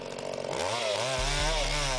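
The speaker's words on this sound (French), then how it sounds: "Pour le bois, ce serait la tronçonneuse." A chainsaw cutting wood, its engine rising in pitch and settling into a steady, loud, close whine, with no talk.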